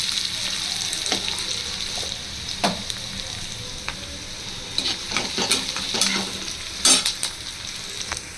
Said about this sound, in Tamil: ஆனியன் நல்லா ஃப்ரை ஆகட்டும்.